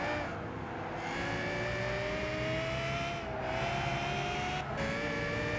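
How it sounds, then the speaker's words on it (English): A Lexus LFA in the racing game Gran Turismo 5 holds a steady, high whining engine note at speed, with brief dips and rises in pitch as it shifts or lifts, moderately loud and alone. "we just enjoy some LFA ASMR or something"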